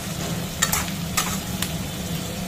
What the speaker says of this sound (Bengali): তোমরা দেখো আমি আলুটা ভাজছি